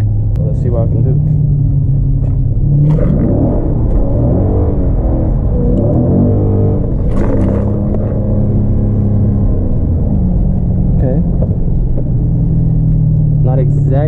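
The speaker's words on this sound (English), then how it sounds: "I'm gonna try to drift this corner." A Dodge Charger Scat Pack drifts around a corner from an in-car view, its engine rumbling loud and steady with rising and falling revs for the whole stretch. Someone talks over it at times.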